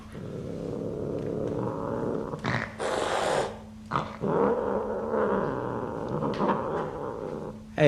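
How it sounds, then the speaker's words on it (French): A dog growls low and rumbling at a cat in a standoff, with the cat's hissing, snarling bursts cutting in sharply, continuous and close throughout. "Et le chien gronde mais n'attaque pas."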